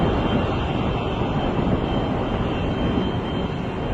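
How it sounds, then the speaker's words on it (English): Steady, loud broadband roar of F-14 Tomcat jet aircraft on approach to land, a continuous engine rumble filling the space with no voices over it. "you watch these aircraft as they prepare to land"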